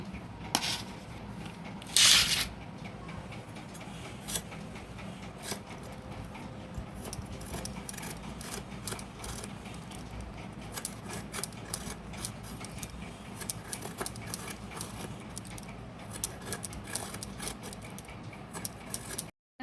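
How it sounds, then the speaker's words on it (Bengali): Pointed gourd (potol) being peeled in a kitchen: faint, quiet scraping with small irregular clicks and rubs, plus one brief louder rustle near the start. "পটলগুলো আমি আগে খোসা ছাড়িয়ে নিচ্ছি।"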